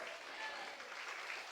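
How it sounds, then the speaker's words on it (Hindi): A church congregation claps loudly at a Hindi Bible sermon, with a dense, continuous burst of applause from many hands filling the space for the whole moment. "ताली नहीं बजाओगे जोर से?"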